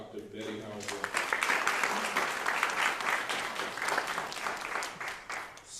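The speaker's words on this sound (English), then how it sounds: "Please join me in giving a round of applause for Dr. Betty Howard." An audience applauds after a speaker's introduction, a brief voice giving way to sustained clapping that swells and then fades over several seconds in a hall.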